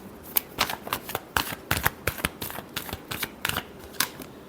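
Tarot cards are shuffled in a quick series of crisp riffling bursts, close and fairly loud, repeating about a dozen times with short gaps and no talking.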